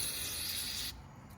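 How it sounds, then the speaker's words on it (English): Aerosol carburetor cleaner sprayed into the fuel area of a small engine carburetor during a rebuild, a loud steady hiss that cuts off abruptly near the end. "And then we'll spray out our initial fuel area."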